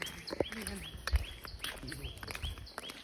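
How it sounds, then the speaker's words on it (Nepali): Birds chirp outdoors in short, quiet calls scattered over a few seconds, heard at a distance against faint background noise and occasional soft knocks. "चराचुरुङ्गीको आवाज सुन्नुभएको छ चराको"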